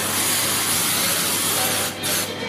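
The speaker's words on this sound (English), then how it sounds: "Just use a spray. Doesn't matter which spray you use, and just give it a really good spray inside." A long, close hiss of baking spray held down continuously inside a bundt tin, with a brief break near the end before spraying resumes.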